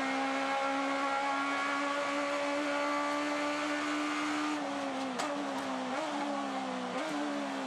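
Aussie Racing Cars race at Barbagallo Raceway in 2017, with a close, loud engine whine held at steady high revs, then broken by several quick gear shifts and rev dips in the final seconds.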